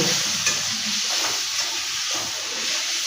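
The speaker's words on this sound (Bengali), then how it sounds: "তো এটা মশলাটাকে আমি একটুখানি ভালো করে কষে নেব ভালো করে।" Cumin and coriander masala paste sizzles and fries in a pan for chicken biryani, with a steady close hiss broken by scraping stirs of a spoon; no voices.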